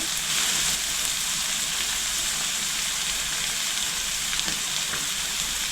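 Beef and vegetables fry in a pan with a steady, close sizzle and crackle that carries evenly throughout, with no voices.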